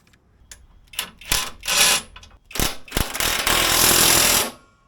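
Bolts on Dirtracks crash bars being tightened on a second-generation Kawasaki KLR650, heard as several bursts of loud rattling impact-wrench hammering, the last one longest, separated by short pauses and clicks.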